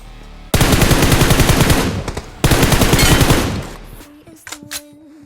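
Rapid automatic gunfire in the mobile battle-royale game BGMI (PUBG Mobile), two long loud bursts of close fire separated by a brief gap, followed by quieter game sounds and faint shots.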